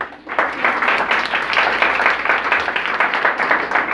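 An audience at the Jacmelitude cultural event applauds a history professor, dense and loud clapping that swells quickly and holds steady for several seconds without any speech.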